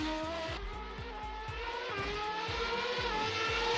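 The V8 engine of a McLaren MP4/8 Formula One car in the Assetto Corsa racing game, revving hard through rapid upshifts with a repeated climbing whine, loud and continuous with no talk.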